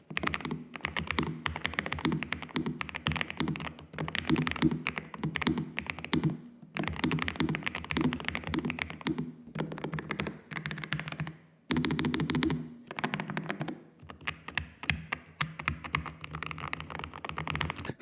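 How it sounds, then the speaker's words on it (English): Rapid, continuous typing on a Nuphy low-profile mechanical keyboard, dense bursts of crisp keystrokes with a few short pauses, close and clear with no talking. "typing sound"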